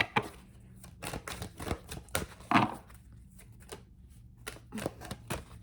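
Tarot cards riffle and slap together in quick, uneven bursts, soft and close, with short pauses between shuffles and no voices.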